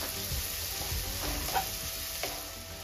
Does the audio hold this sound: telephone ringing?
no